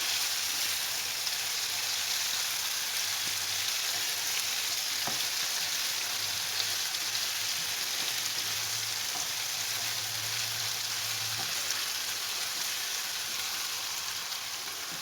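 Mushroom and vegetable börek filling sizzles steadily in a pan, a constant close frying hiss with faint stirring scrapes, no voices.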